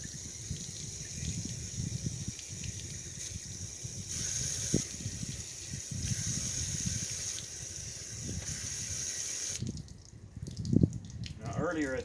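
Rusty water pours and splashes from the drain of a 318 engine block in a quiet garage, a soft continuous trickling flow with a few sharper splashy spurts near the end, and a voice talks over it.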